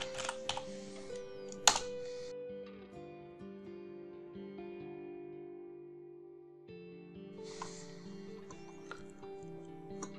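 Typing on a computer keyboard while entering text into an Excel spreadsheet cell: a few quick, faint clicks near the start and again later, over a sustained background tone.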